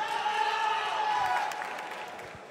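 A crowd at a Yu-Gi-Oh! YCS top-four feature match claps and cheers softly as a player takes his seat, a diffuse, moderately distant wash that fades toward the end.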